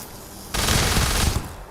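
Rapid automatic gunfire from a weapon in the Starfield video game: a loud, dense burst of shots lasts under a second, then cuts off abruptly.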